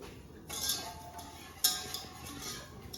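Whisk mixing quinoa-recipe ingredients in a bowl, a few brisk metallic clinks and rattles with one sharp knock near the middle, close and brief, no talk.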